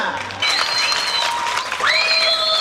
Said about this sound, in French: Donc on va applaudir pour Maman Georgette Okemba.